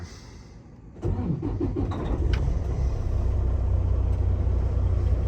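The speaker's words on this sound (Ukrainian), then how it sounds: "прикольно працює двигун" A car engine turns over at about one second and settles into a steady, loud idle that keeps running to the end, with no voices.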